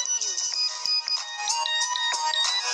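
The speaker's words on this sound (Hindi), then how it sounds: "मुकेश भाई का गाना आ चुका है" A Mukesh name ringtone plays a bright, busy synthesized melody with sustained high notes and quick ornaments, loud and continuous without pause.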